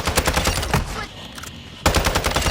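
Rapid automatic bursts from an ISO 45 submachine gun fitted with a muzzle attachment in Modern Warfare 2, two close, loud strings of shots split by a short pause.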